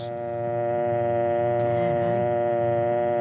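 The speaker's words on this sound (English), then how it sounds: "Then remove the receiver and listen for the dial tone." A steady, continuous dial tone from an old rotary-dial telephone hums at an even pitch, loud and unbroken, with a brief faint chirp partway through.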